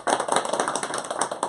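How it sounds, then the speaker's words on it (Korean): A group of people clapping together in a room at a casual church gathering, dense steady applause with many overlapping claps at close range, no voices over it. "우리 다 같이 한번 박수 한번 할까요?"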